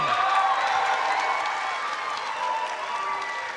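Sellout arena crowd at a televised netball game between the New Zealand men's team and the Silver Ferns, cheering and applauding loudly as the teams run out, a steady dense roar that eases slightly after the first second.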